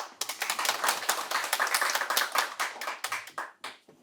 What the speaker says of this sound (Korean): 박수로 봐주시기 바랍니다